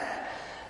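Someone takes a single audible breath in through the nose or mouth during a post-workout stretching routine, a short, soft airy rush with no talk over it.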